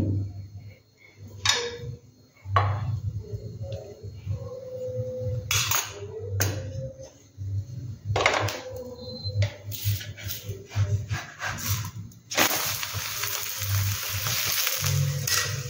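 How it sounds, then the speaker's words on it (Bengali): Layered lachha paratha fries in oil in a pan. A steady hiss and sizzle runs throughout, broken by occasional scraping and clattering from turning or pressing the bread, and it grows louder and more continuous toward the end. "ভালো করে ভেজে নিয়ে এবার তেল দেবো।"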